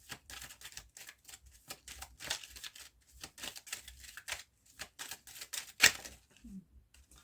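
Plastic-coated tarot cards being shuffled and laid out: quiet, rapid flicking and riffling taps in uneven bursts, with one sharper snap near the end.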